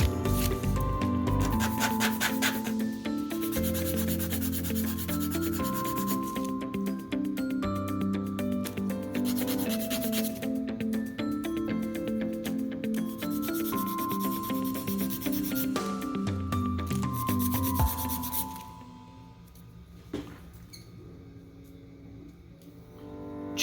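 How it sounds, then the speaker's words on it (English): A balsa wood strip being sanded to marked angles for a model bridge, heard as close, steady back-and-forth rubbing strokes that continue for a long stretch before stopping near the end. "And I sand to those angles"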